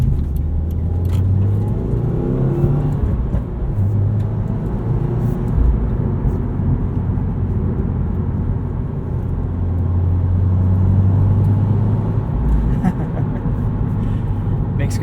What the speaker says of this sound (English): You can really hear that turbo spool up.